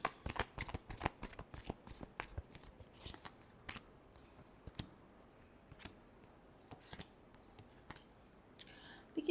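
Tarot cards being shuffled by hand, a rapid series of crisp riffling clicks that comes in bursts and then thins to scattered light taps, close and fairly quiet.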